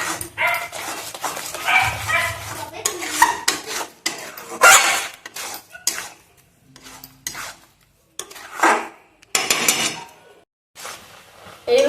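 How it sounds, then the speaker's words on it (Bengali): A spoon or spatula scrapes and stirs paneer with sugar in a pan, cooking it down until dry for sandesh. The metallic scraping comes in irregular bursts separated by short pauses. "এবারে আমি অনবরত নেড়ে পনিরটাকে পুরো শুকনো করে নেব।"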